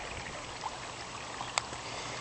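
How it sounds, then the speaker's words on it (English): Water flowing through a small garden creek: a soft, steady trickling wash, faint and continuous, with an occasional small splash. "So the water flows through here."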